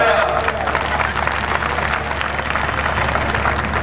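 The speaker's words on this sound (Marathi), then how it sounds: "आणि वाजवण टाळ्या" A crowd at a felicitation ceremony for Shiv Sena MLAs of the Shinde faction in Malad claps in steady applause, with voices and crowd noise mixed in.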